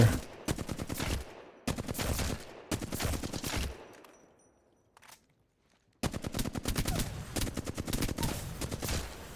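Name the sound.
gunfire while practicing recoil in Apex Legends video game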